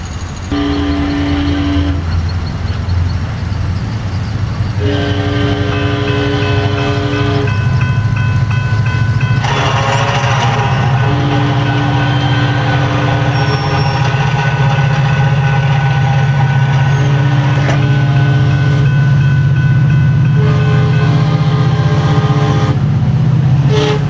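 A SunRail commuter train in Orlando rumbles steadily past at close range, with a low continuous roar and sustained horn-like tones sounding in long blasts over it.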